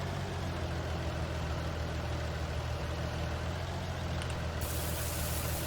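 Tractor engine in Farming Simulator 19 runs at a steady low idle, a constant rumbling drone with no change in pace, moderately loud and alone.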